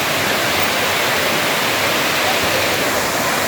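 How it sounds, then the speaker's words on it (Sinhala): Atambe waterfall in Sri Lanka pours down in a steady, dense roar of falling water. It sounds close and loud and stays constant with no pauses, and no voices are heard. "වතුර ටිකක් නාලා දවස සතුටින් ගෙවන්න හරිම ලස්සන තැනක් තමයි මේ ඇටඹේ ඇල්ල."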